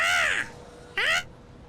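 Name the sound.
crow cawing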